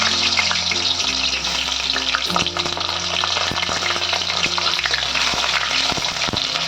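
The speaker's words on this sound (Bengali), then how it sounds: "তেলটা আমার ভালোভাবে গরম হয়ে গেছে এবার আমি সবজি কাটাগুলোকে একে একে ছেড়ে দেবো আলুগুলোকে ছেড়ে দিলাম" Cut vegetables and potatoes sizzle loudly and steadily in hot oil, a dense crackling hiss with occasional spatters, over soft background music.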